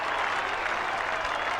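A large crowd cheers and applauds a goal kicked for North Melbourne at a 1998 Carlton versus North Melbourne Australian football match, a dense, steady roar of clapping and voices filling the whole moment.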